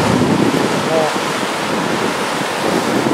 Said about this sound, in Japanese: 海にも結構、波が押し寄せております。